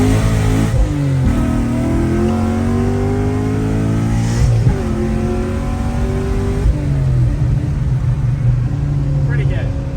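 Chevrolet Camaro engine pulling hard during a ride, heard from inside as a loud, rising drone that climbs through several gear changes, with brief dips between pulls and some talk over it.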